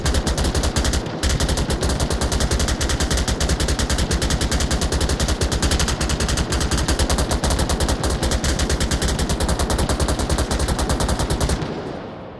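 Sustained automatic gunfire in the VR shooter Onward during a competitive esports match, a dense unbroken stream of rapid shots laid down as suppressive fire, loud and close, cutting off near the end.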